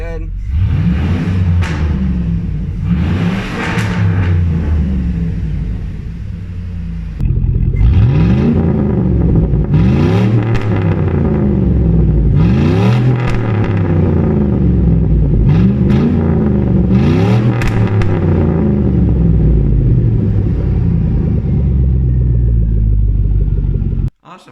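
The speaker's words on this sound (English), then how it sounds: "I'm going to fire the truck up now" A GMC Sierra truck engine idles loudly, with a steady rumble and a clutch fan whirring, then revs up several times in rising and falling surges. Talk is heard over the engine during the first few seconds.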